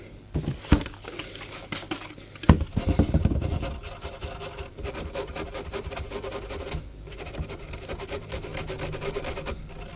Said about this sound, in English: Fiberglass brush is a really good way of cleaning crap off PCBs